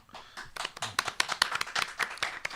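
Hosts and guests clap in a TV news studio before a moment of silence, a brisk run of sharp individual hand claps from a few people, close and fairly steady, uneven in spacing.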